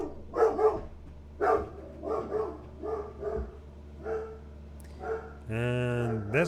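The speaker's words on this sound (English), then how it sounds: "And there's my dog barking for everybody" A pet dog barking indoors: a series of separate, moderately faint barks spaced about a second apart, ending with a brief whine-like tone.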